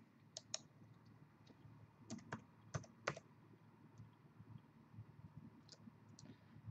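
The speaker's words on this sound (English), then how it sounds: "Let me go ahead and type in live in the thread." Someone types on a computer keyboard in short, irregular bursts of light key clicks, with a few sharper taps in the middle. The clicks sit close and quiet over a faint room hum, and no one speaks.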